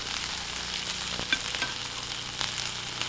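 Hamburger patties frying on a George Foreman Lean Mean Fat Reducing Grilling Machine give a steady, moderately loud sizzle, with a few light clicks and scrapes over the top and nobody speaking.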